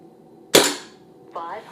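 A single sharp crack from an SMK Victory CP2 .177 air rifle fired over a chronograph, close and loud with a short decaying tail, followed by a brief voice.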